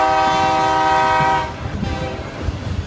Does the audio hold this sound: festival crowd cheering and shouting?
no